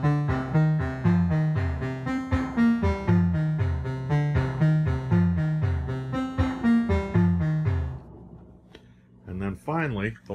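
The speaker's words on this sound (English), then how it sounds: "So now when I just start the drum machine, that will activate the other synth to play both parts in sync." A DFAM drum machine sequencing a Mother-32 synth in sync, giving a steady repeating pattern of pitched percussive notes for about eight seconds, then a brief wobbling swept tone as it fades.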